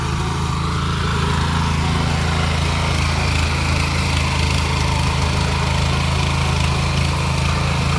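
A tractor engine running after a makeshift repair of a broken cable, a steady close drone with a low throbbing tone holding evenly throughout, no talk over it.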